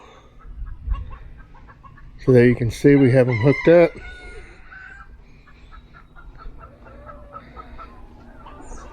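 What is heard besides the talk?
chickens clucking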